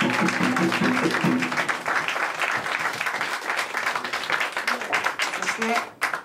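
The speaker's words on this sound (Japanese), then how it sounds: "大きな拍手。" A live-house crowd applauds after a song at a small music venue, a sustained patter of many claps with a voice talking over it and faint musical tones at the start.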